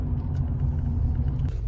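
A car pulling up, heard as a soft low engine and tyre rumble held steady for a moment at close range.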